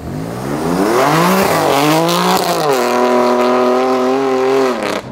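BMW M3 engine revving hard while warming up its stock rear tyres in a drift session, loud and close, pitch climbing and dipping through repeated revs with a faint tyre squeal.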